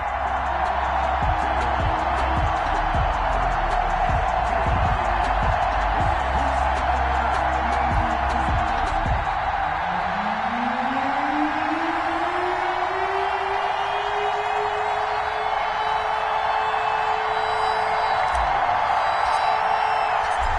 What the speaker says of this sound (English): This crowd is ready as their guys get set to match up between the New York Jets and the Indianapolis Colts.